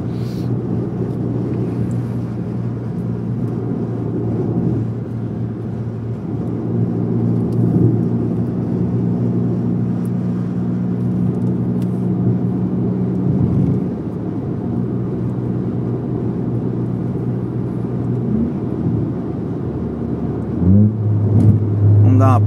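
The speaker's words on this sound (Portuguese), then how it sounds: "os dois carros vão ficar andando bem colado" Engines of a Honda Civic Si and a Volkswagen Golf GTI driving close together, a steady low engine drone with a rise in revs near the end, with talk over it.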